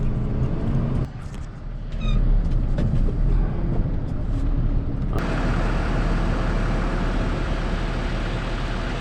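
A tow truck drives along a street, with its engine rumbling steadily and growing louder partway through as it moves off, alongside some brief clanks.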